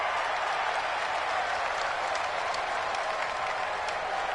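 Stadium crowd roar from a PS4 American football game, a dense steady wash of cheering and clapping with scattered sharp claps, loud and continuous throughout.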